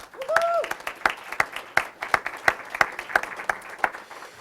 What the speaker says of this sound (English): if we could give the board and Dr. Smyser and Scott Nielsen a round of applause